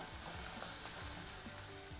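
Onion and garlic sauté in a pan as a base for fish curry, giving a faint, continuous sizzle with light, scattered spoon taps.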